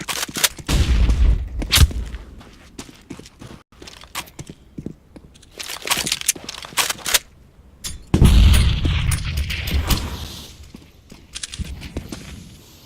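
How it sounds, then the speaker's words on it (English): A flashbang grenade goes off in a first-person shooter match, a loud concussive burst near the start followed by scattered gunshots, footsteps and a second heavy blast with a ringing hiss partway through. "Grenade. Deploying flashbang."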